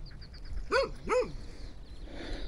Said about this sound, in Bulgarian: освен това кученце, което лай